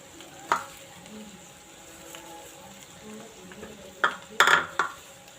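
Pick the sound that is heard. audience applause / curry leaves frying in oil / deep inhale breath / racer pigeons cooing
curry leaves frying in oil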